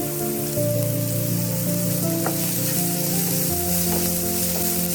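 Onions and green chillies with salt sautéing in a pan for vegetable momo filling, a loud continuous sizzle with a steady hum underneath and occasional clinks of stirring.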